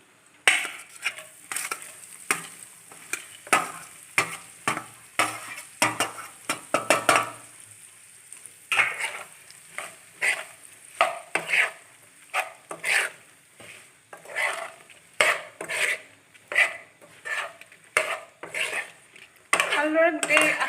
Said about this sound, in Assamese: এতিয়া আমখিনি ভালদৰে দি ইয়াত লৰাই দিম